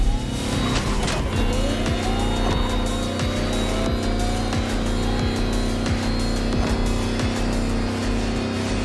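An electric Lamborghini hypercar races in The Crew Motorfest, its loud, rising electric motor whine layered with tire squeals, skids and rushing road noise, all close and continuous without speech.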